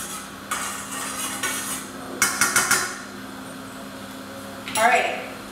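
A small spoon clinks and scrapes against a pot while stirring wax melting into oil for homemade deodorant, in a few short bursts of clatter, with a faint steady hum underneath.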